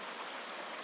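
Steady rushing wash of a creek flowing beside a woodland hiking trail in York County, Pennsylvania, with small waterfalls nearby; a constant, even, fairly faint water hiss with no voices.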